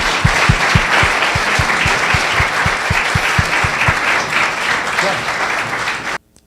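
An audience applauds after a student business case competition Q&A, steady dense clapping with a few sharp rhythmic claps standing out, loud and close, then cutting off abruptly near the end.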